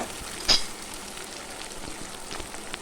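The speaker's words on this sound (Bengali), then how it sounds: "গাঠি কচুগুলো বেশ ভালো করে ভেজে নেবো" Taro pieces frying in a pan with salt and turmeric give a steady, soft crackling sizzle, with one brief louder clatter early on and no talking.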